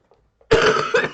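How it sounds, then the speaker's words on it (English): A single loud, rough cough from a sick person bursts out close by after quiet, with a brief second push at the end. "you're going to hear coughing"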